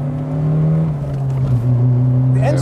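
A BMW M3 E30 engine pulls hard in second gear, a loud steady engine note that climbs in pitch over a few seconds, with the sound of gear changing near the end.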